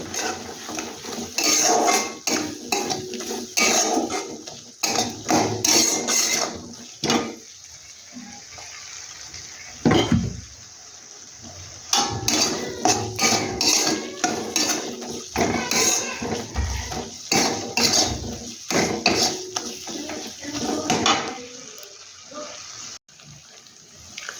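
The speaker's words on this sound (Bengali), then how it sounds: "বেসনটা একটু ভালো করে আমি ভেজে নেব।" Gram flour fries in a pan while being stirred for a fenugreek leaf dish, with loud repeated scraping and clattering of the spoon against the metal pan in uneven bursts, with brief pauses and a hissing wash underneath.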